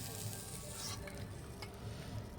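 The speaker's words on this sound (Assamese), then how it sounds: "এয়া মাছ ভাজিবলৈ আৰম্ভ কৰিলো" Fish fries in mustard paste in a pan, a soft, continuous sizzle with light stirring scrapes, close but quiet, with no talking.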